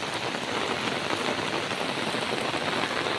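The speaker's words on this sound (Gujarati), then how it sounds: "જુઓ કેટલો વરસાદ પડે છે આમાં" Dense, steady winter downpour of heavy rain hisses loudly and evenly, close by, with no voices, as floodwater fills farm fields.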